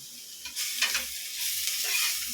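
Ginger garlic paste fries with softened onions in a pan, a steady close sizzle broken by scraping stirs of the spoon, with no talking.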